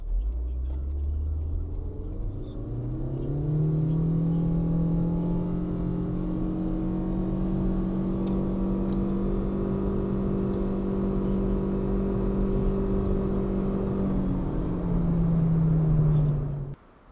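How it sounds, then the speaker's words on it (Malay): A Proton Saga FLX SV with a CVT accelerates from 0 to 100 km/h, engine rising in pitch and holding a steady droning whine as speed builds, heard from inside the car, then easing off near the end. "sekarang kita akan tengok berapa lajunya Saga FLX daripada 0 hingga 100 km sejam"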